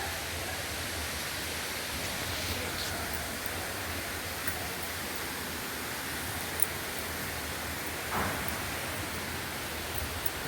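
Jalagamparai falls pours steadily near a hillside Murugan temple: a broad, constant rushing hiss of falling water, moderately loud and unbroken, with no voices.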